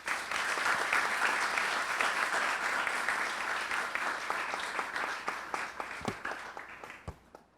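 A television studio audience applauds: dense, loud, sustained clapping that slowly thins out into a few scattered individual claps at the end.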